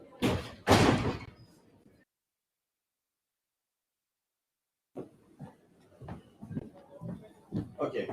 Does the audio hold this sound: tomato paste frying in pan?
no